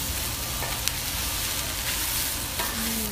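Vegetables sizzle steadily in a hot pan beside smoked beer brats and Italian sausage, a loud continuous frying hiss with occasional scraping stirs, close and without talk.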